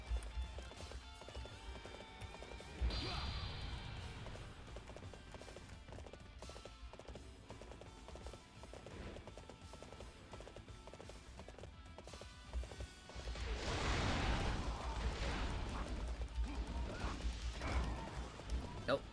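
A horse galloping in Dynasty Warriors 8: Xtreme Legends, rapid clip-clop hoofbeats under game music and battle noise, with a louder burst of action near the end and occasional talk over it.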